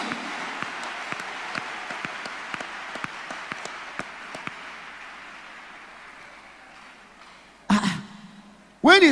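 A church congregation at a Thursday deliverance service claps hands, fairly faint and rhythmic at first with sharp individual claps, thinning out before two loud bursts near the end.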